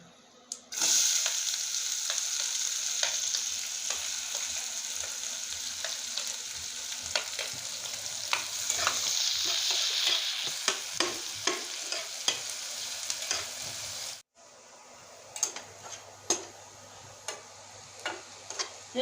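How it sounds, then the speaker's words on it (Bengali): A large onion fries and sizzles in a pan, stirred with a spatula that scrapes and clicks in an irregular rhythm, loud and close, the sizzling dropping away briefly near the end before the stirring resumes. "আমি একটা বড় সাইজের পেঁয়াজ নিয়েছি দিয়ে দিচ্ছি"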